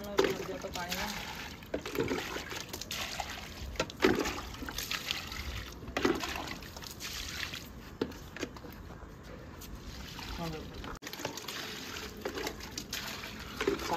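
Water trickles and splashes steadily as plants are watered outdoors, an irregular wet patter running throughout, with a person talking over it.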